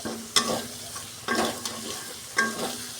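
Green chilies fry in a pan with tomato-based masala, a soft steady sizzle punctuated by three distinct spatula strokes as they are stirred.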